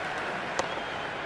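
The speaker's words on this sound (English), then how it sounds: "There's a buzz, a real buzz coming from the stands." Virtual stadium crowd at an IPL T20 cricket match in the Cricket 26 video game, a steady, dense roar of cheering from the stands with a brief sharper spike partway through and no talk.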